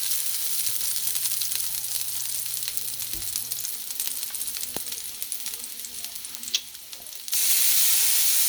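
An onion sizzles and fries in a brand new pot being christened in a Guyanese kitchen, a steady broadband hiss lasting throughout with a few clicks, brightening and growing louder near the end.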